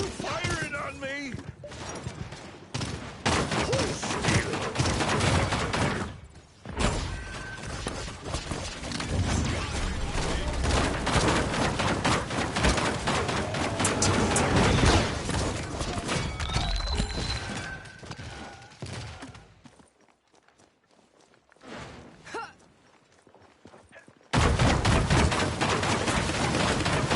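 Enemy gunfire in the hero shooter Paladins: dense, sustained bursts of shots and impacts, loud and close, running almost continuously with a brief lull near the end while voices talk over the action.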